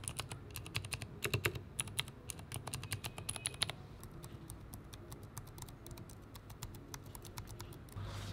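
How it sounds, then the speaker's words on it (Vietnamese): Rapid, fairly quiet keystrokes on the keyboard of a VGS Imperium gaming laptop, keys with travel comparable to Cherry MX Speed switches, clattering steadily for a few seconds and then fading to soft background noise. "các bạn gõ phím và văn bản gõ nhiều các thứ ấy, thì âm thanh nó phát ra không quá to"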